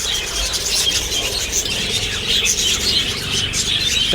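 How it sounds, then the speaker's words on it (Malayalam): Many birds chirp and twitter at once in a dense, continuous chatter, fairly loud and close, at a bird enclosure in Mysore, with no speech. "കിളികളെ കാണാൻ പൂതിയുള്ളവർക്ക് കണ്ടാൽ കൊട്ടക്കണക്കിനാണ്"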